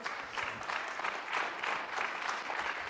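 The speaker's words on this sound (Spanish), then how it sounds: "Dale un aplauso a Cristo Jesús." Congregation applause fills a church service, a steady dense wash of clapping from many hands that holds at an even, moderate level throughout without talk.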